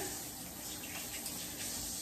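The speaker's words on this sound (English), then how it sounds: "And I'm going to add a little water." Water being poured into a slow cooker holding a piece of meat, a continuous splashing stream that runs steadily and fairly quietly throughout.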